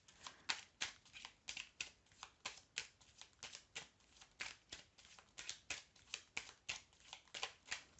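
Oracle cards are shuffled again and again in a fast, even rhythm of crisp riffling bursts, close and quiet, with no one talking.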